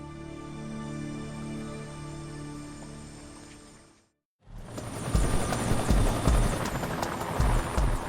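A steady, loud police helicopter rotor drone that cuts out briefly, then returns rougher and louder with heavy beating and wind-like rumble, close by, over swampland at a plane crash site.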